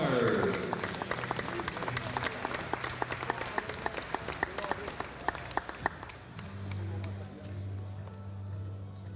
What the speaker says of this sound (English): how about an out round of applause for your